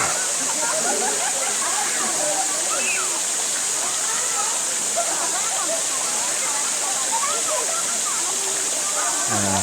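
Batlag Falls pours steadily near Metro Manila, a constant broadband rush of falling, splashing water close by, with voices speaking faintly underneath.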